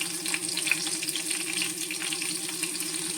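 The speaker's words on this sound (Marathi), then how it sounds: "हे आपलं तूप तापलं आहे याच्यामध्ये ह्या मिरच्या टाकलेल्या आहेत आणि हे चिमटीभर जिरं फोडणीला टाकलेलं आहे" Green chillies and a pinch of cumin crackle in hot ghee for a tempering, a soft, continuous frying hiss with faint stirring, fairly quiet and unbroken.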